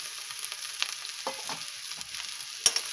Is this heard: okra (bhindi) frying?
yes